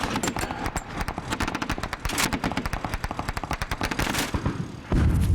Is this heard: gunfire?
yes